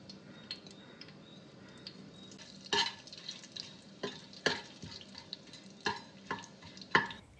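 Biryani masala fries in sunflower oil in a pressure cooker, a low sizzle punctuated by sharp metallic clinks and scrapes of a spoon stirring against the pot at irregular intervals.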